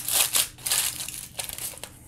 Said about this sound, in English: I'm just wrapping another piece of tin foil around the back